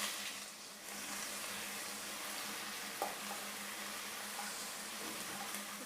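Crushed garlic, about twenty cloves, fries in hot oil with fenugreek for a Sankara fish curry, giving a steady, even sizzle throughout, faint and close, with one soft clink partway through.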